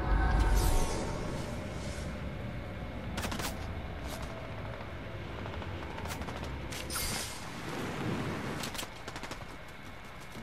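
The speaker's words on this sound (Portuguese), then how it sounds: "Explosõezinhas aqui, né?" Small explosions and gunfire pop in a Fortnite match, sharp bangs scattered over a steady background of game noise, moderately loud at times and separated by quieter gaps.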